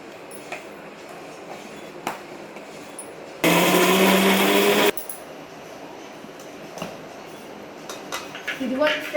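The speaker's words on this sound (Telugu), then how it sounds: "ఇదంతా మిక్సీ చేసి పేస్ట్ చేద్దాం రండి." A kitchen mixer grinder blends a homemade hair pack paste in a loud, steady whirring burst of about a second and a half, with quieter clicks and handling noises around it.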